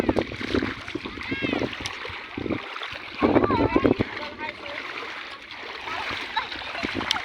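River water splashing at a village river during a Bihu picnic with children, irregular splashes and flowing water close by, mixed with children's and adults' voices.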